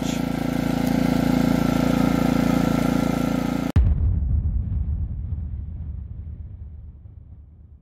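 Heomaito dual fuel inverter generator running at a steady, loud hum, then abruptly cutting off, leaving a fading rumble as the engine winds down.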